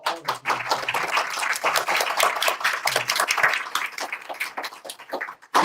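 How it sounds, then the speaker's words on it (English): Audience applause at a law forum, a steady wash of clapping hands lasting several seconds, fairly close and even, swelling slightly at the end. "I want to give a big round of applause."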